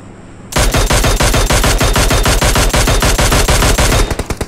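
Sustained automatic gunfire in PUBG on the Miramar map, a rapid, steady stream of loud close shots lasting several seconds before trailing off into a few scattered final rounds.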